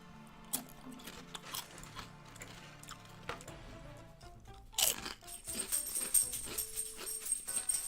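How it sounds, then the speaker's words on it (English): Someone eats crunchy potato chips up close, making sharp, irregular crunches and bites with pauses between them, denser and louder toward the end, with no speech. "Enjoy the relaxing crunching sounds of my chip consumption."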